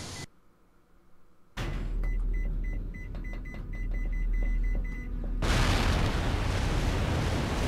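A countdown timer alarm in the horror video game Cold Fear beeps in a quick repeating electronic pattern over a rumbling, booming game background, which swells louder as the beeps stop.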